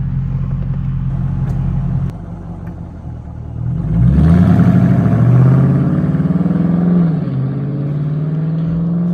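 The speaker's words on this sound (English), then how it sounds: "I'm gonna just insert some clips of the exhaust so you guys can hear cold starts and warm starts" Dodge Charger or Challenger exhaust on a cold start: a deep steady idle rumble, then a surge into a loud rising rev that swells and settles back to a lower burble, close up.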